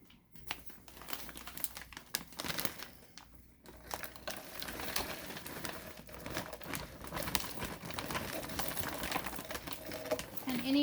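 Potting mix poured and scooped into a cut plastic milk jug for winter seed sowing, giving a steady close crumbly rustle and crinkle of plastic that runs throughout.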